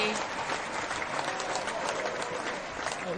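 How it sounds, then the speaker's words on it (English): Applause and crowd noise for Rudy at the close of a chat show, steady broadband clapping lasting a few seconds without a clear break. "Round of applause for Rudy."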